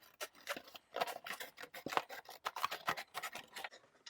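Scissors snip their way around a plastic milk jug, giving a close series of short crunchy cuts and rasping scrapes in an irregular rhythm, with no talking.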